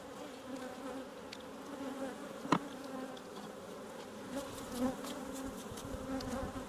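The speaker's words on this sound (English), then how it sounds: "This hive is just pretty chock full of bees." Honey bees buzz steadily in a dense, close drone inside a hive packed full of bees, with a few brief clicks and shifts in pitch over the constant hum.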